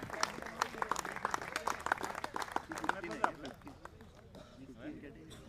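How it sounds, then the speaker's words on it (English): Steady applause fills a cricket awards ceremony as the best bowler is honoured, with continuous clapping from a gathered crowd running under an announcer's voice before fading slightly. "Guys, round of applause needs to continue, guys."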